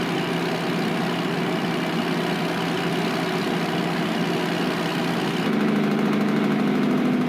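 A 100th Anniversary Kenworth W900 with a Cummins ISX 600 engine cruises down the road in American Truck Simulator, giving a steady, loud, droning diesel hum that shifts slightly in tone near the end.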